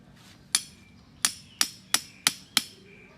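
A hammer drives a metal ground rod into soil with six sharp, ringing blows at a steady, slightly quickening pace. The strikes are close and loud against a quiet background, with no talking.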